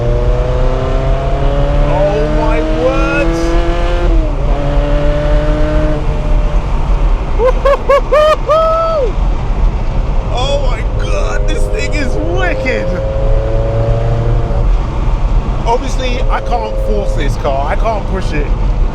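A Ferrari 360 Modena engine pulls hard through repeated upshifts, each rising rev sweep breaking off at a gear change with a brief lag, loud and close from inside the car, with someone talking over it.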